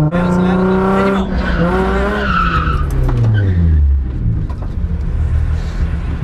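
Nissan 350Z drifting after a handbrake pull, its engine revving and sliding down in pitch as the tires skid and squeal loudly close by, with shouting voices over the noise.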